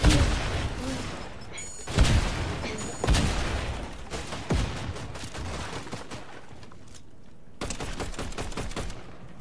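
Rapid gunfire bursts from a Fortnite match crack out in repeated loud volleys with sharp single shots between, under players' voices talking throughout.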